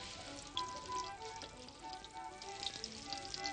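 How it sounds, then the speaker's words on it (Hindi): Sliced ginger frying in hot oil, a steady close sizzle with faint crackles and light stirring throughout, no voices. "तेल गर्म हो जाए उसके बाद इसके अंदर ये अदरक डालें"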